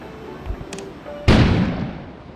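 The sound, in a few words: explosion outside in video game Kona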